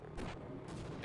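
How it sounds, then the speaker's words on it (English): SMG grenade launcher firing in Half-Life, a dull booming blast over steady game noise, short and moderately loud. "SMG nades."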